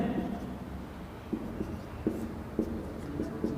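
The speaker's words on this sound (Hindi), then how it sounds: "जैसे मैं ऐसे लिख दूँ इसको" Chalk or a marker writes on a board, with scattered light taps and short scratchy strokes spaced irregularly over a quiet room background.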